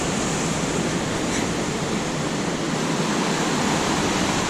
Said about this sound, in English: Oh, look at that. Raging waters.